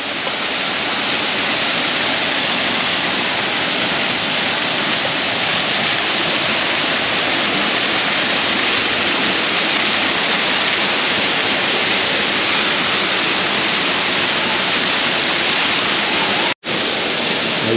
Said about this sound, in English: Our own private waterfall.